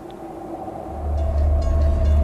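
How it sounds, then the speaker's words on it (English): A train approaches: a low rumble builds steadily and grows louder over a couple of seconds, with a faint steady tone above it and no voices. "There's a train coming!"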